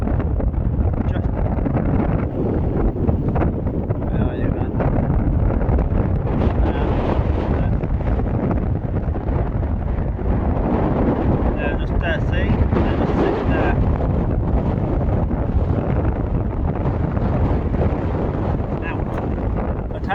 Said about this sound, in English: Now, when the wind is blowing, the sand is hitting on your feet.